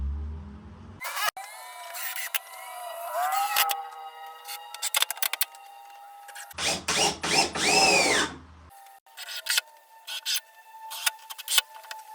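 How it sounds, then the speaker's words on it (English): A power drill driving screws through the top panel of a soundproof generator box, with whining bursts that rise and fall in pitch, separated by brief pauses and handling knocks, close and fairly loud. "So now that I have the top centered where I want it, I'm gonna screw it in."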